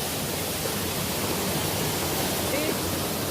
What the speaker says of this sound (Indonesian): Ada air terjun kecil, terus turun di sini.